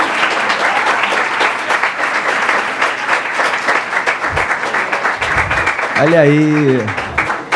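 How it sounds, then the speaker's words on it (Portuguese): Sustained applause from a lecture audience fills most of the stretch, dense and steady, with a voice speaking over it near the end. "Sustentem as palmas, por favor"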